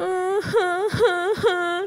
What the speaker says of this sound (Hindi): उन्हें किसी के रोने की आवाज़ सुनाई देती है